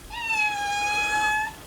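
A cat gives one long, clear, drawn-out meow outdoors in the morning while other cats wait nearby, close and steady for over a second with no talk over it.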